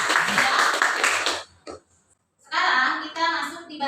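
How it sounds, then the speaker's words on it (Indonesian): Schoolchildren clap together in a classroom, a loud burst of applause that stops abruptly, a brief pause, then another round of clapping and cheering. "Tepuk tangan dulu."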